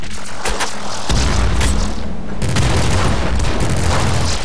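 Video game explosions in Nuclear Throne from a nuke launcher: loud, dense booms and blasts pile up in quick succession over a constant roaring din, with no speech.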